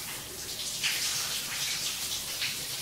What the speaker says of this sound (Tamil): திரும்பவும் தண்ணி கொட்ட ஆரம்பிக்குது